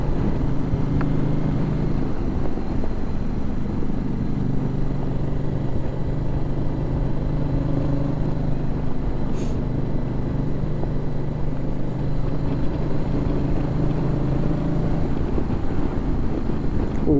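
A Yamaha Tracer 7 motorcycle engine drones in a steady low hum, heard from onboard under a loud, constant rush of wind across the microphone, with no clear change in pitch.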